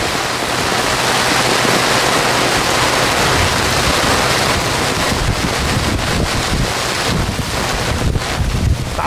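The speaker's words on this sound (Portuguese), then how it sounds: "Tá muito forte o vento." Strong, gusty wind roars loudly and steadily against the microphone during a flood storm in Vila Prudente, with a rushing, water-like wash throughout and no talking.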